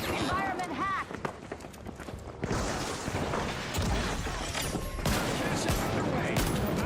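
Gunfire rattles in nearly continuous bursts in the arena shooter video game The Finals. Footstep-like thuds and faint voices are mixed in.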